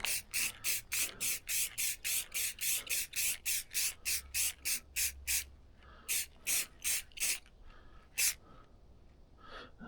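A spray can paints a large rusty set of pliers in a garage, about twenty short rhythmic hissing bursts in quick succession, then a few more spaced ones after a pause.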